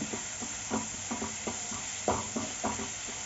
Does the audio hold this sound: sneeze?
no